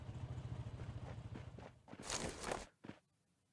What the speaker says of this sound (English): Did I hear footsteps?